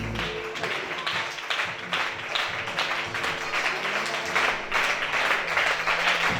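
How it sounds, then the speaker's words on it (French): A church congregation at a worship service applauds and cheers steadily, dense clapping and crowd noise sustained throughout, loud and enveloping. "Lève-toi et acclame très fort pour sa présence."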